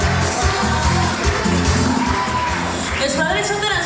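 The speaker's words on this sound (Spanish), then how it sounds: "vamos a darle más fuerte los aplausos para el gobierno" An audience at a sea lion show in a Mazatlán, Sinaloa aquarium applauds and cheers, a dense, steady wash of clapping broken by whoops and yells, with voices mixed in throughout.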